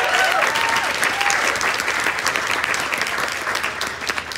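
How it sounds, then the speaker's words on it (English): Wedding guests at a venue give a round of applause, a loud, dense clapping that carries through the whole clip and eases off slightly toward the end. "Quick round of applause for the venue."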